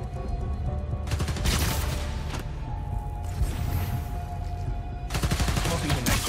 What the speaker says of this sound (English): Why are you shooting up the power station?